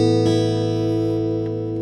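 Kazuki Soul Series D41 acoustic guitar, heard through its replacement soundhole pickup with a touch of reverb and no chorus: a sustained strummed chord ringing steadily and fairly loud, with no talk.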